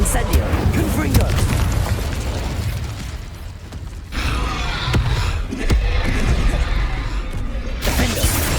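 Explosive spell blasts from Incendio and Confringo in Hogwarts Legacy, heard as dense, loud bursts of fiery impacts and booms that repeat throughout, with shouted spell calls over the top.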